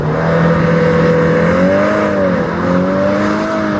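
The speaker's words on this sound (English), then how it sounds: "Launch control program active." A Mk8 VW Golf R launches under launch control, its engine note climbing steadily in pitch, dipping briefly at a gear change, then rising again in a loud, continuous surge.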